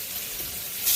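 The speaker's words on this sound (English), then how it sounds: "My scrapple is sizzling along with your bacon." Scrapple and bacon frying together in a skillet give a soft, steady hiss of sizzling fat, close and uninterrupted.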